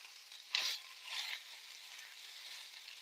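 Meat and garlic frying in a pan give off a steady, quiet sizzle throughout, with a couple of brief louder crackling bursts early on.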